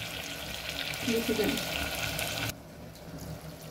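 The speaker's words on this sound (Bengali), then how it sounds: "বাকি এটাকে মিডিয়াম ফ্লেমে রেখে জাস্ট ফ্রাই করে নিচ্ছি।" Spices frying in a pan on a medium flame in a home kitchen, a steady close sizzle with faint stirring that drops to a quieter hiss partway through.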